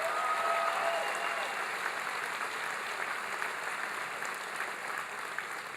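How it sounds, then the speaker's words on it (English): Audience at a presidential health care town hall in Green Bay applauding, a steady sustained wash of many hands clapping at moderate distance, fading slightly over several seconds. "Please give them a big round of applause"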